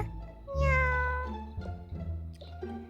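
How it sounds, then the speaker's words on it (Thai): A cat meows once in a long, rising-then-falling cry, followed by a few shorter, softer mews, with a low steady hum underneath, in the video game Toca Life World. "สงสัยจะเป็นเสียงแมวนะ"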